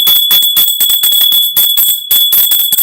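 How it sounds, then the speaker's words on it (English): A hand bell is rung repeatedly in a brisk, loud series of strikes with a bright, sustained metallic ring, close and alone, during a spiritual summit gathering. "I was given an assignment by spirit to ring this bell"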